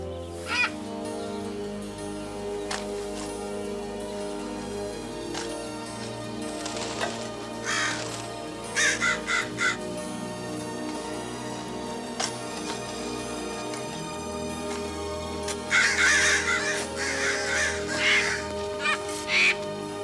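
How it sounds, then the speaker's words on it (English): Large birds outside, likely crows, give several loud harsh caws in scattered bursts over a steady background of music or ambient sound. "There's birds out there. Big ones."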